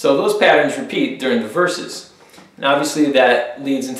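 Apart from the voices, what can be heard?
No everyday noise stands out behind the speech.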